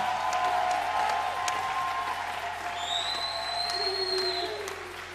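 Congregation applause during a church deliverance service, a dense continuous wash of clapping with tonal sustained notes running over it, fading slightly toward the end.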